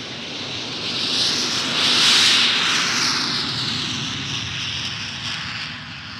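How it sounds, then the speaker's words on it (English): A de Havilland Comet 4 jetliner flies past, a broad roaring jet rush that swells to a peak and slowly fades, loud and continuous with no voices. "That's a Comet 4."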